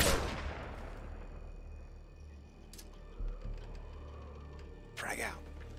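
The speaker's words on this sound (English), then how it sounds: "Cover me. I'm reloading." Weapon reloading in Call of Duty multiplayer: a loud burst of gunfire fades into mechanical clicks and clacks of the reload, with a sharp metallic snap near the end.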